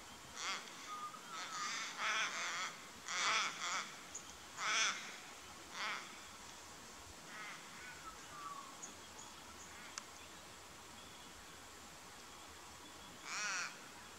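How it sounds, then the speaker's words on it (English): Crows cawing in Australian bush during a sambar deer hunt, several harsh caws in irregular bursts at middle distance over quiet insect hum, with a last call after a long pause. "watch those crows, a big giveaway of this deer just bedded down here"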